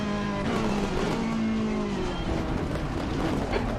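Race car tires skidding and squealing in a racing video game, a steady loud engine drone with wavering squeal tones running throughout, continuous and close.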